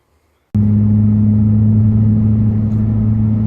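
A turbocharged Ford BA XT Falcon with an aftermarket ANTZ Performance turbo-side intake starts up suddenly and runs on, a loud, close, steady engine drone with a low rumbling hum and no voices.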